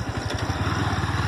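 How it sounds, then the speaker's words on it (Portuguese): A motorcycle idles close by on a rural road near coffee farms in Dom Viçoso, Brazil, its engine putting out a steady, low, throbbing pulse with no voices over it. "não pode morrer a moto, não."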